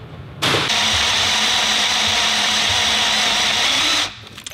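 A drill bit bores into metal for a wheel-nut and strut piece on an AWD kart build, giving one loud, steady whirring grind of about four seconds that starts and stops abruptly, with no talk.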